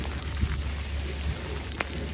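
Steady rain falls outdoors on Florida's Atlantic coast, a dense even patter with occasional closer drops hitting a surface, and no voices.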